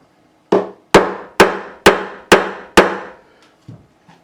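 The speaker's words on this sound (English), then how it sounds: "Sometimes you hammer these in and they'll stay," Six sharp, evenly spaced hammer strikes during an acoustic guitar repair, close and loud with short wooden ringing decays, followed by a softer tap.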